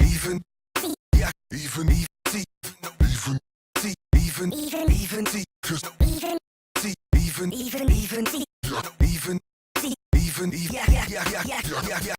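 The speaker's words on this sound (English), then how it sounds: "chopped some stuff up for you and isolated the drums and the vocals, and this is what it sounds like" Choppy, stuttering fragments of pitched vocals and drum hits, chopped and isolated samples, play in rapid bursts, separated by abrupt silent gaps.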